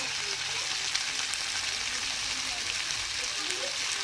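Turmeric and spices frying in hot oil give a faint, steady sizzling hiss with small pops, while chicken curry is being prepared.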